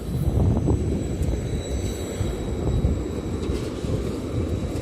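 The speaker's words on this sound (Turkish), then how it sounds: "tramvay İsviçre'nin tramvayı" Steady low rumble of a tram rolling past outdoors in Basel, Switzerland, a continuous rolling drone with faint high squeals, no speech.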